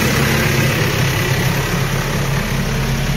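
A tractor with an air-conditioned cabin idles on a farm in Australia, a loud, steady, close-up engine drone with deep low rumble and no pauses.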